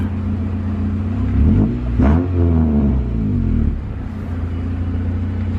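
A 1991 Acura Integra RS engine revving, a steady idle rumble rising into a couple of quick throttle blips with a rising and falling pitch, then settling back to idle, close and fairly loud.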